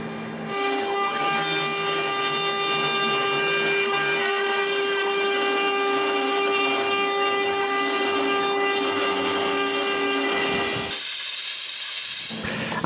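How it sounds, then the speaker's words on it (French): Router with a large bit cutting the contour of a wooden plate, a loud steady whine with a fixed ringing pitch for about ten seconds before shifting to a harsher, thinner rush of noise, no talking. "je change encore une fois de fraise pour une encore plus grosse et je découpe le contour"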